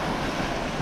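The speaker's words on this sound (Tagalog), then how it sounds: "ang lakas ng alon dito" Strong sea waves at open sea around a small boat, a brief steady rush of surf and wind noise filling the clip, with no voices.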